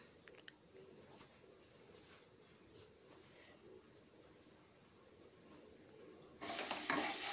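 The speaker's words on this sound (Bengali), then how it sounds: "আর এখন আমি আদা টমেটো লঙ্কার পেস্টটাও দিয়ে দিলাম।" Ginger, tomato and chili paste fries with spices in a pan with a faint, low sizzle and soft stirring. A louder, brighter surge of frying comes in near the end.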